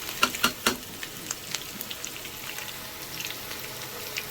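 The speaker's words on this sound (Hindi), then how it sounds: "अब हम इसमें प्याज डालेंगे जो अच्छे से हम ब्राउन करेंगे।" Onions drop into hot oil in a kadai with a few sharp pops at first, then settle into a steady, close hiss of frying with faint crackles.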